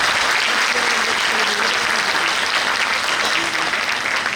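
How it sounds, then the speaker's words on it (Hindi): Sustained, dense audience applause fills the hall at a college event, loud and even throughout without any break or talking. "जोरदार तालियां आप लोग बजाइए।"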